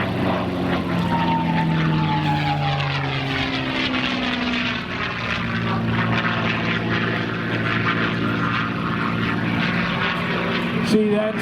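P-51 Mustang "Quick Silver" propeller warbird at the Dover AFB airshow, its piston engine droning loudly with shifting pitch as it passes, while a voice talks over it.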